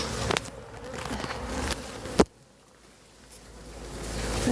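Honey bees buzz around an opened hive in Plymouth, UK, a close, continuous droning hum with a few sharp handling knocks and scrapes from the hive box.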